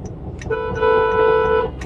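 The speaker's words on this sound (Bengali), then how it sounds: "আমার পিছনের গাড়িটা তখন থেকে এই রাস্তাতে হর্ন মেরেই চলেছে" A car horn sounds from a vehicle behind in a stuck traffic jam on the road to Diamond Harbour, one long steady blast lasting about a second over a low engine and traffic rumble, with short fainter toots before it.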